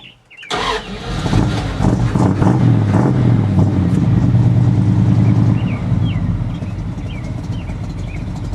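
A 1980 Dodge Utiline truck with an upgraded cam, pistons and rods cranks briefly, then fires up and settles into a loud, lumpy, rumbling idle close by.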